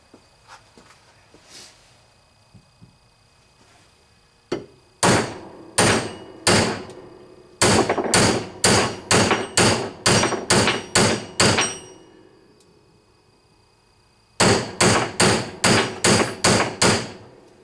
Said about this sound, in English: I'm going to place the tip of the mandrel over that hole, and I'm going to start driving the mandrel down to get it started